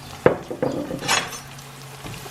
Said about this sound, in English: Just keep stirring like that.